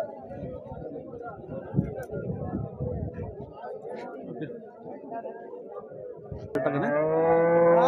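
A cow lets out a loud, drawn-out moo near the end, cutting in over a busy livestock market in Husnabad, where crowd chatter and talking fill the background.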